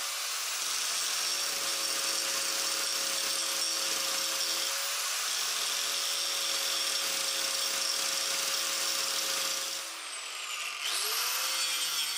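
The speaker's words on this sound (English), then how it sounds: "I'm just going to be using a grinder with a you know, grinding disc on it basically." Angle grinder fitted with a grinding disc shaping a metal sword guard, a loud sustained high whine running steadily with no talk, dipping briefly near the end before spinning up again.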